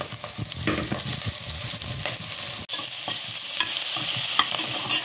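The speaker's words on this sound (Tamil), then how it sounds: "அதுக்கப்புறம் வெண்டைக்காய் வதக்கிடுவோம்." Okra sizzles steadily while being sautéed in a pan for a tamarind kuzhambu, with a spatula stirring and scraping through the hiss and one brief break midway, close and loud with no talking.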